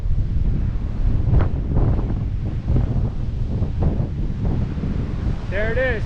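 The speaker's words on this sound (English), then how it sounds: "It's a little bit windy out here." Steady wind buffets the microphone outdoors at a cave fishing spot, a constant low rumble with gusty swells, and a faint birdlike chirp comes near the end.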